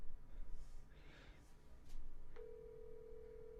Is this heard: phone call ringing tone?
yes